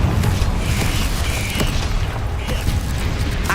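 A Confringo spell explosion in Hogwarts Legacy, a fiery magical burst with rumbling, crackling noise, loud and continuous across the moment.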